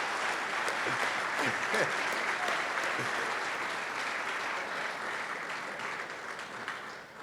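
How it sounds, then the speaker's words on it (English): An audience at a men's breakfast gives a young speaker a long, loud, sustained round of applause, dense clapping that fills the room and fades slightly toward the end. "Let's give that young brother a thunderous round of applause"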